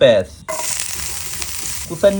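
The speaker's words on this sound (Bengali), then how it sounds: "পেঁয়াজ হালকা ভাজা হয়েছে।" Sliced onion sizzles in soybean oil in a frying pan, a steady close hiss of frying with short vocal sounds at the beginning and end.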